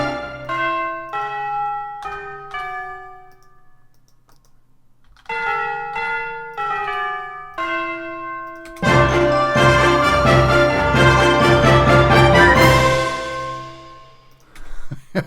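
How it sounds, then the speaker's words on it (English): Orchestral tubular bells ring out in a series of struck notes with long decaying tones, a pause, then another run of strikes before a full orchestral sample swells in underneath, loud and sustained to the end. "Tubular bells."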